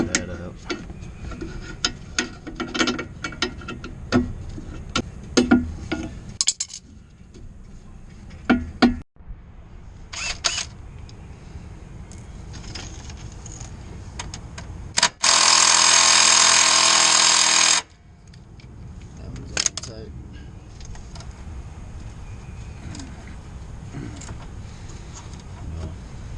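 A Snap-on impact gun loosens a steering nut on a vehicle under repair, giving one loud, sustained burst of about three seconds amid scattered tool clatter and clicks.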